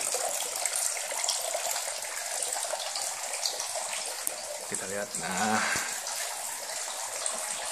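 Steady hiss of water flowing continuously through the pipes of an NFT hydroponic system, with a voice speaking briefly over it near the middle.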